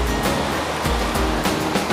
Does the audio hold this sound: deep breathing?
no